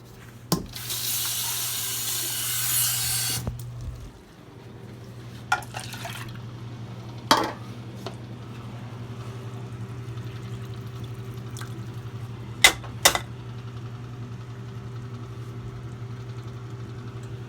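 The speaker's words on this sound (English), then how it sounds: "We'll give it a little bit more water." Water is poured from a tap or jug into a pot of lentils cooking for dal: a bright, close rush of liquid lasting about three seconds, followed by a low steady simmer hum with a few sharp clinks.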